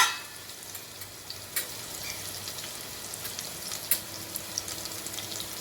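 Coarsely ground coconut and garlic tempering in hot oil, a steady close sizzle and frying crackle with small sharp pops, alone and without speech.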